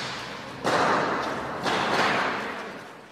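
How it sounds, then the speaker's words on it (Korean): A car burning in the middle of a highway tunnel, its engine compartment on fire, gives off two heavy booming blasts about a second apart, each swelling into a loud, echoing roar that slowly fades. "폭발음까지 들리는 가운데 차들이 위험천만하게 지나갑니다."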